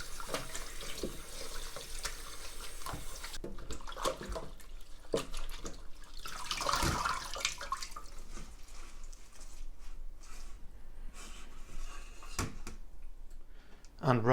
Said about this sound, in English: Now you can give your garlic mustard a good wash.